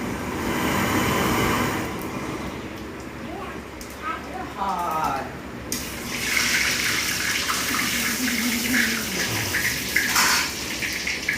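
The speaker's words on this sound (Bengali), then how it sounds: "জল চলে এসছে" A kitchen tap runs in a home kitchen where chicken curry is being cooked: a steady, fairly loud rush of water starts partway through and continues to the end, with voices talking throughout.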